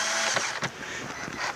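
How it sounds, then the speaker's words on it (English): Screw gun driving a screw to secure a false firewall retainer in a Mustang 5.0 engine bay, a steady close motor whir with a brief burst partway through. "look at that screw gun. Set your screw in there"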